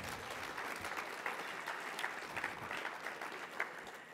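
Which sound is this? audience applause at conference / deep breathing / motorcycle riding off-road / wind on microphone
audience applause at conference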